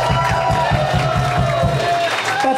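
A concert audience cheers and claps in a dense, loud crowd roar that fills the space, with an undertone of rhythmic low thumping running beneath the noise.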